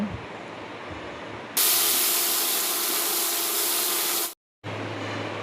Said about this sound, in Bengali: দিয়ে ভালো করে আমাকে এখানে লালচে করে ভেজে নিতে হবে